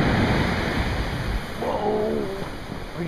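Big ocean waves break and wash on a surf-fishing beach, a loud, steady roar of surf with wind buffeting the microphone and a brief tonal squeal partway through.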